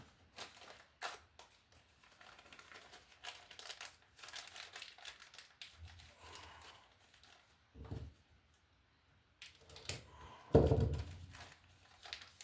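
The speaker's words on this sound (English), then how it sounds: "I'll cut the bag so I can show you the bag at the end." A plastic bag is cut and crinkled up close, quiet rustles and crackles coming in scattered bursts, with one louder crunch near the end.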